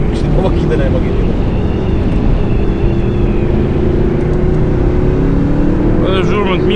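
An Audi R8 supercar engine hums and revs steadily at close range, loud and continuous, with a rise in pitch near the end and a person talking over it.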